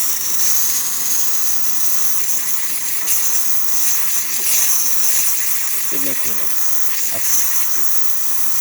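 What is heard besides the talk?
steam hissing from Delonghi Magnifica espresso machine steamer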